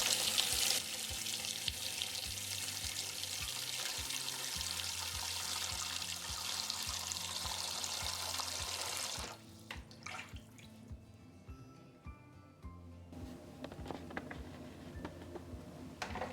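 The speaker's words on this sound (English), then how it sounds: "I'm going to add cold water." Cold water gushes steadily from a tap for several seconds, loud and close, then cuts off, leaving faint clinks and quiet rustling.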